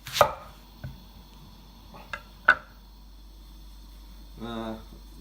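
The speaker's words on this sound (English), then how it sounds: "I can go ahead and get my other vegetables ready and chopped" Three or four sharp knife chops of vegetables on a board, spaced irregularly, followed by a brief buzzing rattle near the end; no talking.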